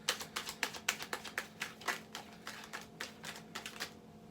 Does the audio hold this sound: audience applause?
no